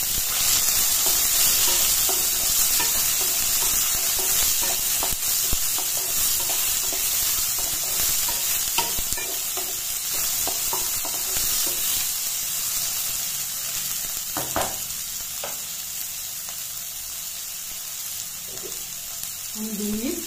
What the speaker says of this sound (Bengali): এবার দেব কেটে ধুয়ে রাখা পেঁয়াজ কুচি